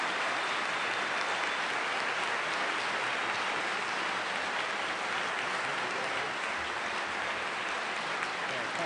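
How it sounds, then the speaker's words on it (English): Sustained audience applause filling a hall after a 2012 Portland mayoral debate, dense and steady clapping throughout with no letup. "Give them some applause."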